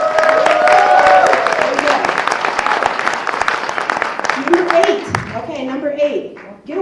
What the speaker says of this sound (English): And so everyone should just give themselves a round of applause.